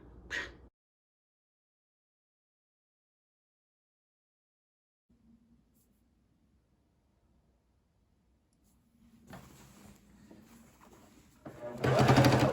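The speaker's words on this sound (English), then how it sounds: "this is me just attaching the binding to the edge of the quilt so that I can flip it over" A sewing machine stitches binding onto the edge of a quilt: after a short click and a long quiet stretch, a low motor hum begins and builds into louder, busier stitching toward the end.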